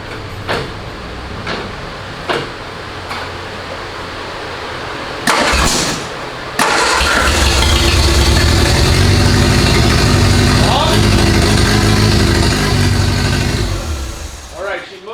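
A homemade hot rod built from a canoe with a leaky radiator, its engine cranking after a few clunks, then catching and roaring into a loud, steady run close by, with brief talk over it.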